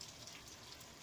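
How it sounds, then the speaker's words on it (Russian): Rain falling steadily during an April thunderstorm with gusty wind, a soft continuous hiss of drops on surfaces, fairly faint and even, with no voices. "21 апреля, гроза с дождем и мини-ураганчик"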